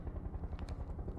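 A video-game helicopter thumps with a steady, rapid rotor beat under a continuous engine drone, close and fairly loud, with no talking.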